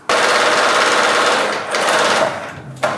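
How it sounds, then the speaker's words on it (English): Loud, rapid needle chatter from a sewing machine stitching through the layers and lining of a fabric bedside organiser, running almost continuously and easing off briefly before a final sharp knock. "I'm going to sew from the bottom, so I know that I've got all the pieces sewn together, including the lining"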